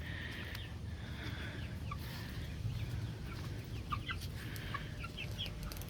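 Baby chickens clucking and peeping in a garden coop, several close, soft, repeated chirps and clucks over a low background rumble, with no talk.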